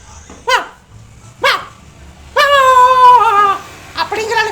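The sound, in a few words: performer imitating a dog barking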